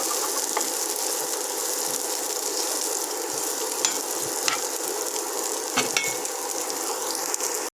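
Chopped onions fry steadily in a pan, a continuous crackling sizzle with occasional sharper pops and stirring scrapes, close and fairly quiet, with no talking.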